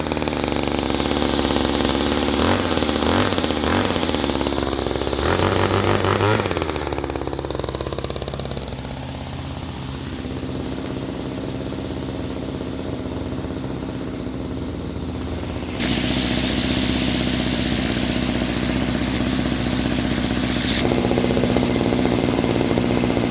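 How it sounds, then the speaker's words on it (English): Old Homelite two-stroke weedeater engine running close and loud, a buzzing idle that revs up in short bursts early on, settles, then rises again and holds steady. "let's fire up the old Homelite here"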